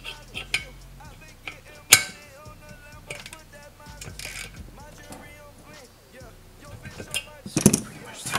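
An air hose fitting is tightened onto an air tank, giving a run of scattered metallic clinks and ratcheting clicks with a few sharper knocks, close and fairly quiet.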